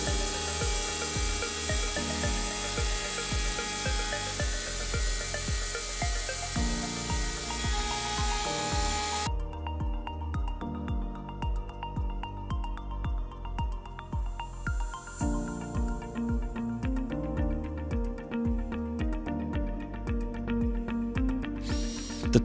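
A Hammer HNC 47.82 CNC router cuts the outer contour of a jazz bass fingerboard in climb-milling mode, giving a steady loud whine with rhythmic pulsing that shifts character partway through, alone without talk.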